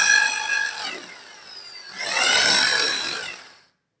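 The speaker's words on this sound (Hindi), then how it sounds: "तो यहाँ पे ड्रिल कर लेते हैं।" A power drill bores into a wall for fastener holes during an outdoor installation, two whining high-pitched bursts, the second louder and longer before cutting to silence.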